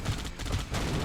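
Gunfire in the real-time strategy game Age of Empires, heard as a quick cluster of shots in steady battle noise, loud and continuous for about a second with no speech.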